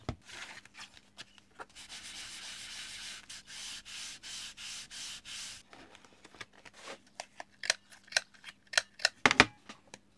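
Scrap paper for a handmade card is cut and rubbed in a quiet room, with a run of regular rasping strokes followed by sharper snips and taps, all close and faint.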